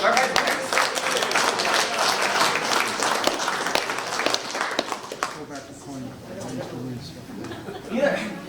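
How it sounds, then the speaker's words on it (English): A room of attendees at a monthly amateur radio club meeting applauds the prize winners, a dense round of clapping for about five seconds that thins out, with voices and chatter beneath and afterward. "let's give a big round of applause for our winners"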